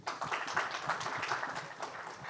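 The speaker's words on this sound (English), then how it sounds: "let him give a round of applause" Audience applause after a conference conversation with speakers, a steady wash of many hands clapping for a couple of seconds at moderate volume, with no one talking over it.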